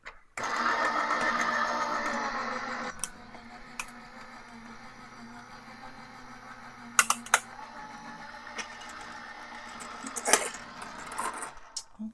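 A die cutting machine cuts witch-shaped card pieces with a steady mechanical whir. The whir is loud at first, then settles into a quieter hum with a few sharp clicks and clunks.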